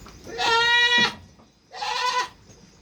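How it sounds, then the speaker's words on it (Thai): Two pregnant goats close to kidding on a farm bleat nearby: one long nasal call, a short pause, then a second slightly shorter bleat. "วันนี้มีแพะท้องสองตัวมานำเสนอครับ"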